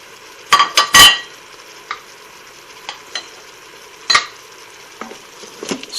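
A utensil scrapes and clanks against a pot while stirring camel meat with carrots, diced onion and minced garlic, giving a loud cluster of metallic knocks at first and then sparse, separate scrapes and taps over faint sizzling.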